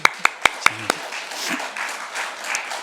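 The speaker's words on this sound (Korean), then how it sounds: "박수 한번 하시죠." A church congregation breaks into applause during a sermon, a few sharp claps at first spreading into a soft, scattered round of clapping that fades under low room noise.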